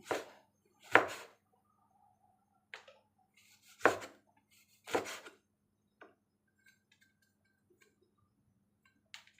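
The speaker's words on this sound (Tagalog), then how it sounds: "hiwain lang natin siya sa maliliit" A knife chops a lemon into small pieces on a board, giving sparse, close, sharp taps spaced irregularly with quiet gaps between them.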